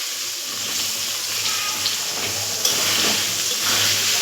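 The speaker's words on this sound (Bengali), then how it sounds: "ভালো করে নাড়াচাড়া দিয়ে ওকে আলুটা ভাজা ওর মতন ভাজতে দেবো।" Potatoes frying in a pan while being stirred, salted with half a spoon of salt: a steady bright sizzle with occasional scraping and small bursts, close and moderately loud, with no talk.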